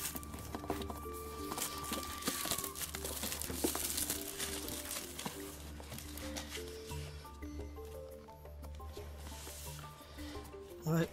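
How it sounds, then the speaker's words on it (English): Plastic wrapping on an iPad 2 box is cut open and ripped off. Close, busy crinkling and tearing runs throughout the clip. "Let me open up the plastic wrapping on the outside"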